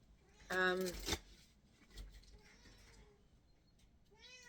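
A cat gives a loud, short meow near the start, then a softer rising mew at the end, with quiet room noise and faint sounds between.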